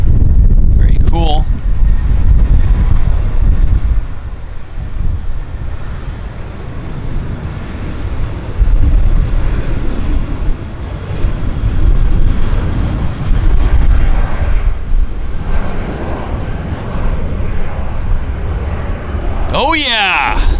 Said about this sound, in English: First ever departure from Vancouver International. Air North's new 737-800.